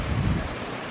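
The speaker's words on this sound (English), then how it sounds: "when it's kind of a quiet night, you can hear the waves" Distant ocean waves wash in a steady low roar, heard from a backyard a couple of blocks from the beach on a breezy night, with the wind mixed into the rumble.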